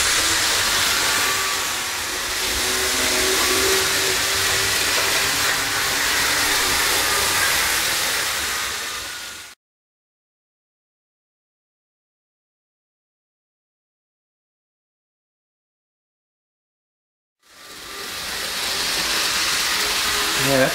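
A Märklin model train engine runs with a steady hissing, rushing noise, cut by a long stretch of silence before the sound resumes.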